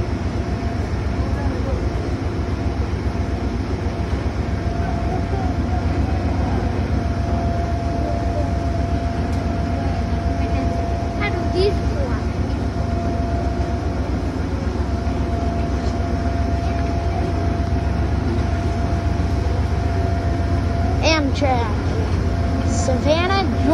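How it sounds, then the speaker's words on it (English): An Amtrak Silver Meteor passenger train rumbles steadily past in Savannah, Georgia, a continuous heavy low roar with rail squeals and clanks, loud and close, no talk. "And here's the train."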